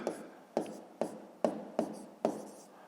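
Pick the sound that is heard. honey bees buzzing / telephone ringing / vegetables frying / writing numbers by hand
writing numbers by hand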